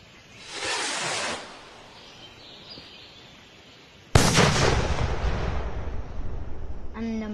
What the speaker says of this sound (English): Today I'll be showing you two Brownwrap salute rockets.